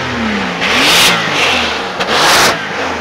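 Porsche 911 Turbo S (992) engine revving in broad surges with a faint rising turbo whistle, mid-distance and fairly loud, with no talk over it.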